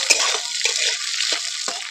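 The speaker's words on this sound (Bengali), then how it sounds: "একটু ভালো করে নাড়িয়ে চাড়িয়ে নেবো।" Eggs are stirred in a pan with fried curry leaves and nigella seeds, a few soft scraping and clinking strokes over a steady hiss.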